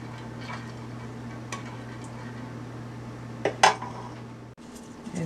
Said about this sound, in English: I'm going to put some of the sauce on the bottom of my pan